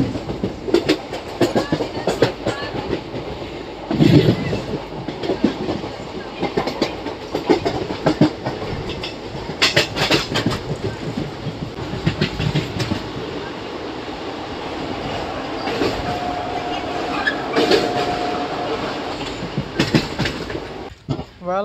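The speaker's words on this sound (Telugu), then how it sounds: "మన ట్రైన్ అయితే మొత్తానికి సింగరం రైల్వే స్టేషన్ అయితే స్కిప్ చేస్తుందండి." Passenger train running along the railway, heard from on board as it passes through Singaram station without stopping: a steady rumble with rhythmic clickety-clack wheel beats and occasional louder bursts over about twenty seconds.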